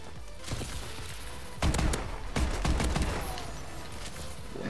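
Burst-fire rifle shots crack out in Call of Duty: Advanced Warfare, with dense, loud volleys that swell in the middle of a constant, noisy game soundscape.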